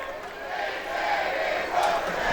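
Large stadium crowd of several thousand roaring and cheering at a soccer match at Fitzpatrick Stadium in Portland, a steady dense wall of voices that swells toward the end.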